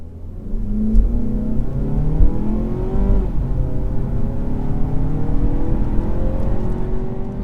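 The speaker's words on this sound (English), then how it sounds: "we can check out a 0 to 60 time from dead stop" A 2020 Mazda 3 Sedan Premium AWD pulls hard from a dead stop, its engine note climbing loud and close, dropping briefly at a gear change, then rising again.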